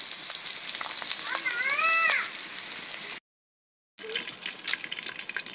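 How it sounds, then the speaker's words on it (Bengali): Potatoes fry in hot oil with a steady, loud sizzling hiss, while a cat meows briefly partway through; the sizzle cuts out to a short silence, then resumes slightly softer with small crackles. "আলুটা কেটে নিই, আলুটা ভেজে নিই"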